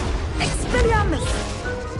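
A disarming spell cast in the Hogwarts Legacy video game, a crackling magical whoosh with a sweeping burst and impact, heard over a voice and a dense game soundscape.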